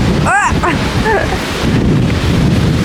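Strong wind on Mykonos roars and buffets the microphone continuously and loudly, while a few voices call out briefly over it.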